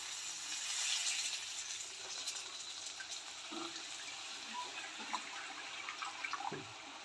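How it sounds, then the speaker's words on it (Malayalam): Tamarind water pours steadily into a frying pan with a soft splashing hiss, faint and continuous, with a few light clinks of utensils. "കുറച്ച് വാളം പുളി നമ്മൾ വെള്ളത്തിലിട്ട് വെച്ചിട്ടുണ്ടായിരുന്നല്ലോ ആ ഒരു വെള്ളം ഇതിലോട്ട് ഒഴിച്ചു കൊടുക്കാം"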